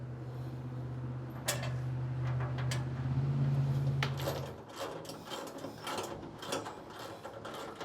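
Metal washers and nuts being tightened onto a heavy-gauge steel tractor tool rack set on sawhorses, with ratcheting clicks and mechanical rattles over a low steady hum, close by and moderately loud, with no talking.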